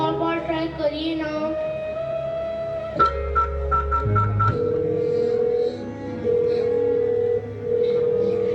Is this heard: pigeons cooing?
no